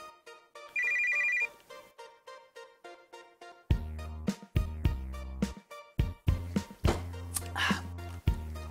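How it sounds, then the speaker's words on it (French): A telephone rings in the video game Always Sometimes Monsters, its repeated electronic trill sounding in short bursts over soft game music before deeper rhythmic tones come in. "Appelons Larry"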